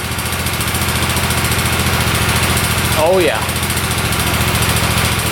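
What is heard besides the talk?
motorcycle engine running with choke off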